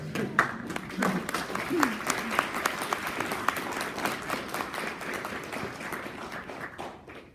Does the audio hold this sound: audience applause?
yes